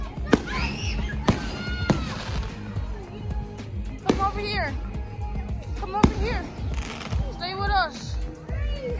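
Fireworks burst and crack in sharp, separate bangs every second or two, some followed by whistling, fizzing trails, with excited voices shouting and talking between and over the blasts.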